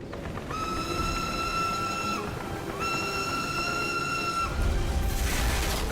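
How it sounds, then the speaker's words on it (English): An allied train arrives in the video game Call of Duty: United Offensive, with two long, loud whistle blasts over rumbling rail noise and a heavier rumble rising at the end. "It feels damn good to hear the ally train coming in when that timer runs out."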